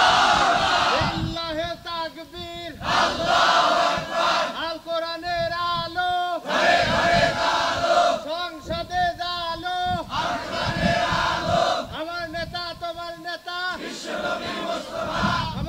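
At a Bengali Islamic sermon gathering, a crowd loudly shouts the takbir, Allahu Akbar, in repeated forceful call-and-response bursts of many voices, separated by short pauses.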